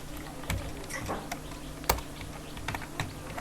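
A search is typed on a computer keyboard: scattered, fairly quiet key clicks at an uneven pace over a low, steady room hum.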